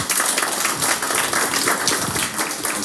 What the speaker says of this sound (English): Another round of applause for the soft-spoken but action-based man